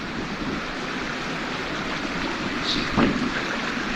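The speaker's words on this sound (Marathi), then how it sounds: "इथून असे झरे येतात सगळे, वर्ण पाणी डोंगराचे" Water rushes and burbles continuously, a steady broad wash of mountain spring water flowing over stones, heard close by with no voices.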